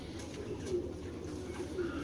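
A khaki Giribaz pigeon of old bloodline coos softly, a few low murmuring calls close by over a quiet room hum.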